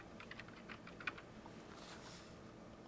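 Fast typing on a computer keyboard, a quiet, steady patter of key clicks close by with one sharper keystroke, heard alone without talk.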